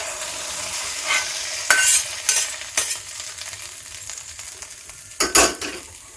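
A spoon scrapes and stirs a spice tempering through a pan of tamarind rice, with a faint crackling sizzle underneath and a few louder scraping strokes.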